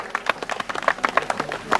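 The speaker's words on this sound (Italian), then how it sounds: "Forza, un applauso." Brief burst of scattered hand clapping at a hillclimb race prize-giving, honouring the third-place finisher in an Osella PA21 Junior; quick irregular claps, moderately close, lasting under two seconds.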